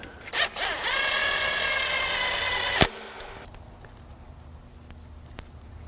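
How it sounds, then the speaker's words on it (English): An impact wrench whirs for about two seconds while running down a bolt on a 302 cylinder head, with short taps before and a sharp stop, followed by quiet clinks of the bolt and parts. "Now to speed things up, I'm just going to run this down with my impact"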